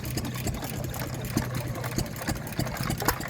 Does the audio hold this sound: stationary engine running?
yes